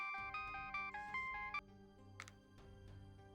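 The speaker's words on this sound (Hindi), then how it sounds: "बेटा रिंग जाती है लेकिन वो फोन नहीं उठाती।" A mobile phone plays a melodic electronic ringtone that repeats a short tune and then stops, soft and close in a quiet room, going unanswered with no talk.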